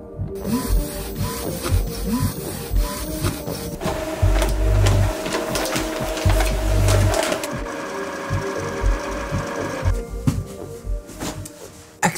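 A new printer prints black copies, its mechanism whirring, clacking and rasping steadily as paper feeds through, with louder low thumps in bursts partway and nobody speaking.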